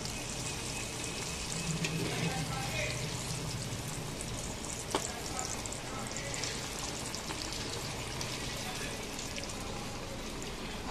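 Carrot vada deep frying in hot oil, a dense steady crackling sizzle close by, continuous and even throughout with a faint clink partway.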